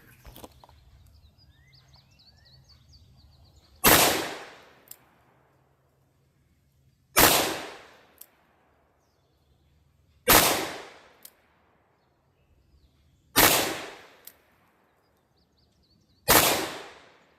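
Five loud, sharp .357 Magnum shots from an Armscor revolver with a 6-inch barrel, each crack ringing out and decaying, spaced about three seconds apart after a quiet start.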